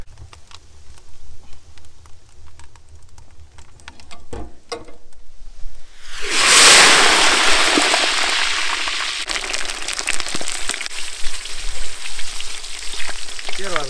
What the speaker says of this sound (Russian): Обжариваем перец.